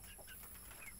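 Farm chickens cluck faintly in a rural yard, a few soft, brief clucks and chirps scattered across a moment of quiet outdoor background.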